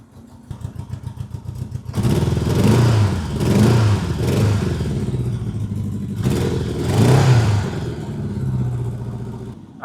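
A Honda Goldwing flat engine runs rough on only some cylinders, firing unevenly after starting up, with loud throbbing low rumble that swells and dips over several seconds.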